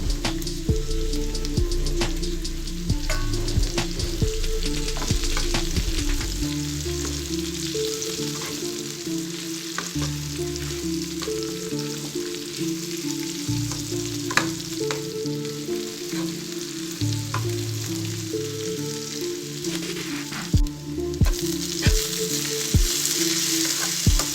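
Gongura (sorrel) leaves frying with onion pieces and turmeric in a pan give a loud, steady sizzle with occasional crackles and stirring scrapes, and no talking.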